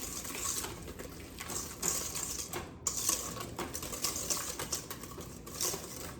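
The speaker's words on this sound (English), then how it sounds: "I'm gonna go ahead and give that a mix" Banana bread batter being mixed with sugar in a bowl, with quiet, irregular scraping and tapping of a utensil against the bowl in a steady working rhythm and no talk.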